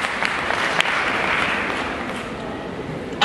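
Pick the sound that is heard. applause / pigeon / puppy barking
applause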